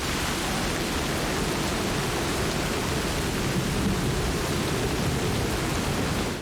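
Heavy thunderstorm downpour, a dense steady roar of rain with a deep rumbling wash underneath, loud and unbroken throughout with no voices.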